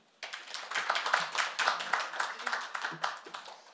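A conference audience at a big data session applauds panelists, a modest, fairly quiet patter of clapping that starts abruptly after a near-silent moment and continues unevenly.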